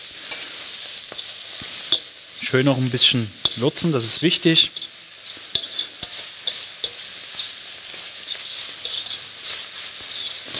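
Chicken breast sizzles and fries in a hot pan while being stirred and tossed, with clattering scrapes and bursts of crackling. A person speaks briefly over the cooking.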